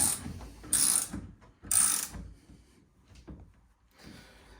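Ratchet tightening a Roper Rhodes Tavistock thermostatic shower cartridge: a few short bursts of fast clicking in quick succession, close and clear, then quieter handling noises.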